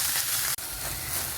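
A pan of ingredients fries with a steady close sizzle, cut by a momentary drop partway through, while stirring goes on.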